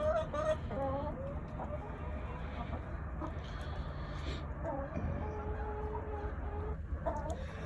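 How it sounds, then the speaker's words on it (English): A small flock of tame rescued backyard chickens clucks softly at close range, with scattered short calls and murmuring clucks over a low, steady background hum. "Get a little chicken cam action going here."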